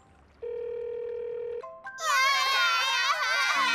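Cartoon characters in a children's animated bus series: a steady electronic phone ringing tone gives way to loud, high, wailing sobs from several voices crying together.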